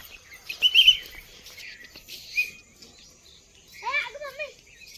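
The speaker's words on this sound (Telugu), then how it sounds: "చిన్న పిచ్చుక" Small sparrow chirping at Kakatiya zoo park in Warangal, a few bright twittering calls with a quick burst of chirps near the end, fairly close over quiet evening background.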